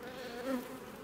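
Ordinary honeybees give a steady, close, low buzz for about a second, with one slightly louder swell in the middle and no voices.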